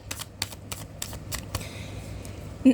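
Tarot cards getting a last shuffle, a quick series of sharp, close riffling clicks that taper off over a few seconds.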